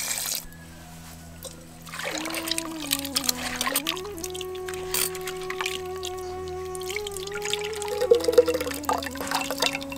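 Tamarind being dissolved by hand in water for a river fish curry, a steady close trickling and sloshing of liquid with a low background hum and no talk.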